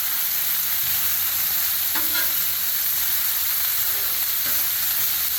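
Teriyaki chicken fries in oil on a Blackstone griddle, giving a loud, continuous sizzle up close, broken by a couple of brief scraping clicks from a utensil.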